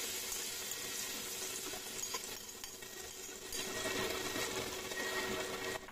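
Spice paste sizzles and spits in hot mustard oil for a bilimbi pickle, a steady dense hiss of frying that swells slightly partway through and continues without pause, with no voices.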